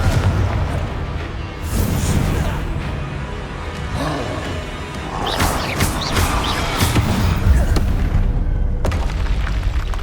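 Confringo blasting spells detonate in Hogwarts Legacy, a string of loud, booming explosions with crackling bursts, several sharp impacts landing in quick succession over a rumbling background.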